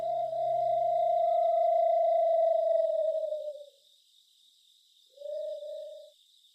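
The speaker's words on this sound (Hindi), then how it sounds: "अचानक दूर से उल्लू की आवाज आई" A distant owl gives a low, hollow hoot held for a few seconds, then a second shorter hoot follows after a pause, with a faint steady high hum behind.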